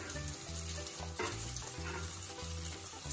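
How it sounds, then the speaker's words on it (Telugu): Doughnuts frying in hot oil in a home kitchen, a steady close sizzle and bubbling that runs without pause, with a few faint clinks in the background. "ఇప్పుడు ఆయిల్ వేడెక్కింది, డోనట్స్ ఒక్కొక్కటిగా వేసి అన్నీ ఫ్రై చేసుకుందాం."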